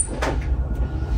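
Cabin door on a sleeper train sliding shut with a brief swish and thud, over the steady low rumble of the moving train.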